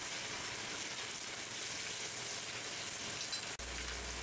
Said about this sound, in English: Now we're ready for the flash and sizzle. Simply add brandy to the pan and light it.